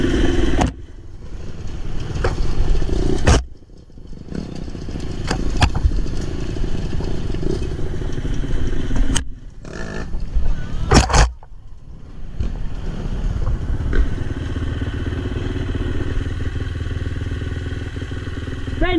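Motorcycles ride along a forest trail, engines loud and revving unevenly with brief drops and cutoffs, and clattering bursts as the bikes pass.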